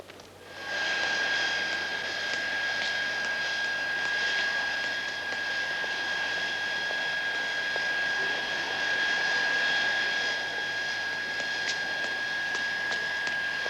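A steady airplane engine drone at an airport, a continuous whining roar with a sustained high tone that rises quickly and holds at a constant level, no voices.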